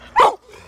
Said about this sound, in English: Dogs grabbing each other.